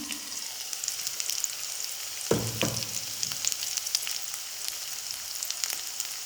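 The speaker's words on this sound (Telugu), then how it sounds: "అలానే మనం ఫ్రై చేసుకుని పెట్టుకున్న ఎండు రొయ్యలను కూడా వేసేసుకుందాము" Fried dry prawns tipped into a hot pan of gongura curry set off a steady, low sizzle, with a brief louder hiss and scrape as they land, then a continuous frying crackle.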